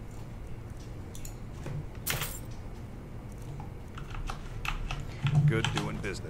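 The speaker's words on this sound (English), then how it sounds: "I know my keyboard is clicky and clacky" Clicky, clacky computer keyboard typed on during a Skyrim gaming session, scattered sharp keystrokes at close range over steady game background noise.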